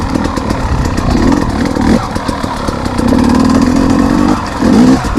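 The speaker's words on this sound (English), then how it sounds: "Even when I'm riding in these rocks like this all day long, this bike still manages to run super crisp." A 2021 KTM 250 XC W two-stroke dirt bike ridden over rocks, its engine loud and close with a buzzing rasp that rises and falls as the throttle opens and closes in short bursts.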